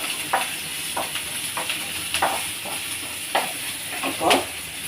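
Ginger and green chilies fry in a pan with a steady, close hiss of hot oil, broken by a few soft scrapes and stirs at irregular intervals.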